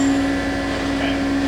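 A Matsuura twin-pallet vertical machining center with a BT40 spindle spinning at high RPM, a steady loud whine with a fixed tone over constant mechanical hum, close and unbroken.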